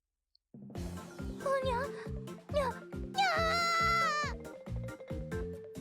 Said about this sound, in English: Look at the little Okayu cat, and I'm happy that it's voiced, even the silly little sounds